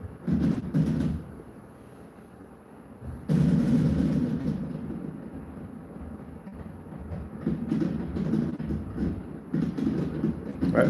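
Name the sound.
fireworks display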